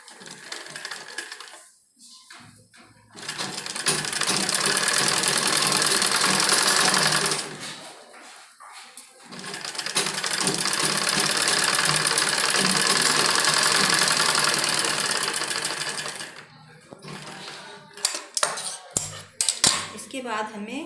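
A sewing machine stitching a blouse runs in two long, steady bursts of rapid mechanical whirring, separated by short pauses with clicks and handling noises, and a quieter spell of fiddling at the end.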